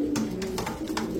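A silver pigeon with a thick nose coos close by in a brief run of soft, low, throaty pulses.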